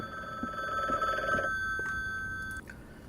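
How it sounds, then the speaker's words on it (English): A telephone rings in the video game Bookwalker: Thief of Tales, a steady electronic ring repeating for about two and a half seconds before cutting off, fairly loud over quiet background. "Why is the phone still ringing even though I'm paused?"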